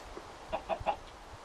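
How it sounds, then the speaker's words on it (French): In the Minecraft video game, a chicken gives three quick, close clucks in a row over a low background hum, with no talking. "Il y a qu'une poule, alors je vais essayer de la tirer."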